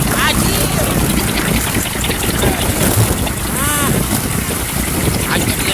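Strong wind blows steadily across an outdoor microphone while a kite is flown, a loud, unbroken roar filling the whole clip.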